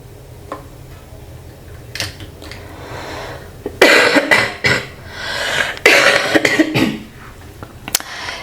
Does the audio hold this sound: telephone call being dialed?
no